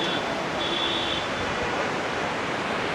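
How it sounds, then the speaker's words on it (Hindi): The Mandakini river rushes fast beneath a bridge on the Sonprayag to Kedarnath trek, a dense, steady roar of flowing water that fills the scene without pause. "दोनों तरफ शानदार मंदाकिनी नदी बह रही है"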